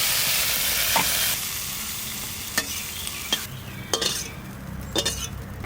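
Light stirring of snakehead (lata) fish frying in a pan at home, a steady sizzle of hot oil with a few sharp clinks of the spatula against the metal pan, close and fairly loud.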